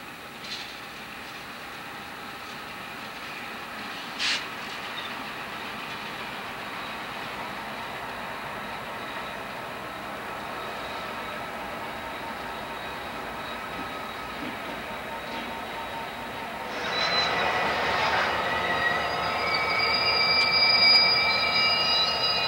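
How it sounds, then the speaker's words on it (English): Missouri Pacific southbound freight led by two B30-7 and one SD40-2 diesel locomotives at a crew change stop in Salem; a steady low rumble of idling engines and railcars, with a brief squeal and a louder burst of rolling noise near the end. "A pair of B-30-7s and an SD-40-2 head up a southbound,"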